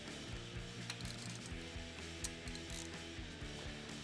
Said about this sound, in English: Use your wrench to tighten this on.